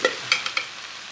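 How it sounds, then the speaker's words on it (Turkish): Meat stew being stirred and salted in a pot, with a few sharp scraping clinks at a steady pace over a soft background hiss, fading to quiet. "Şöyle iyi tuz serpiyorum biraz. Güzel karıştırıyorum."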